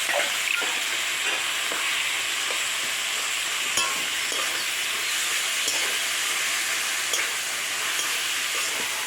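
Boiled greens go into a pan of fried beans and potatoes and sizzle loudly and continuously, with scraping stirring clicks breaking through the steady hiss.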